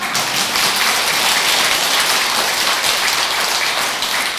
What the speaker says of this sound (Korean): 박수처럼 확실히 치지.